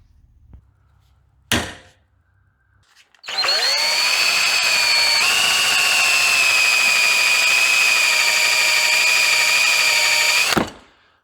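A power drill bores set screw holes in a custom power steering part for a 1940 Chevy Business Coupe. A sharp click comes first, then one loud, steady high whine lasts about seven seconds before stopping abruptly.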